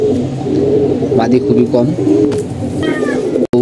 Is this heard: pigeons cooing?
yes